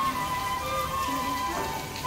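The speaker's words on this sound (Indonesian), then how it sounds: "hujan deras dari pagi, tuh bisa terdengar" Heavy rain falls in Hakone, Japan, in cold weather near a bus station. The downpour is a dense, steady patter that stays even throughout, with no voices over it.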